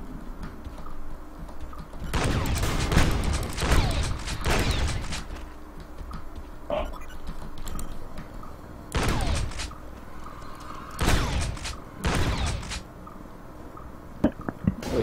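A sentry gun in the Space Beast Terror Fright video game fires loud, rapid bursts in several separate volleys over a low mechanical hum, with short gaps between them.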